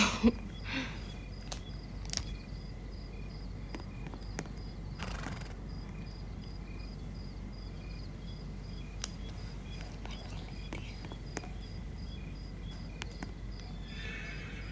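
A horse's hooves in the video game Horse Valley clip-clop at an unhurried walking pace, fairly quiet, with a brief whinny near the start and scattered clicks.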